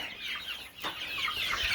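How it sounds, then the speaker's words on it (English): Hungry chickens clucking in a barn on a windy day, several birds calling close by in a busy, overlapping chorus over a steady breezy background hiss. "And I got my hungry chickens."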